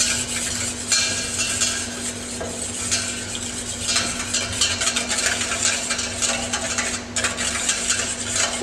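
Egg yolk and liquid cream whisked together for a blanquette de veau liaison, a steady brisk scraping and clinking of whisk against bowl continuing throughout, close and fairly loud with no talking.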